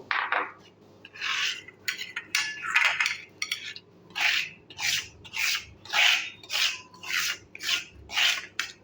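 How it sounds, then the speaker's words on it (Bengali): Garlic is ground on a grinding stone in a rhythmic series of close, rasping scrapes, about a dozen strokes at a steady back-and-forth pace, with no talk over them. "তাহলে রসুনটাকে আমি বেটে নিচ্ছি"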